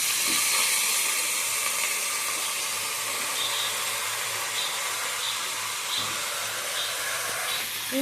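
Bottle gourd greens with eggplant, radish and beans cooking in a kadai, producing a continuous hissing, steamy sizzle at an even level throughout.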